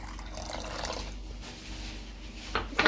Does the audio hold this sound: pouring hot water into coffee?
yes